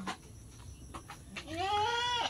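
A two-day-old newborn goat kid gives one high, wavering, drawn-out bleat close by, after a few soft knocks and rustles, in a fairly quiet setting with no talking.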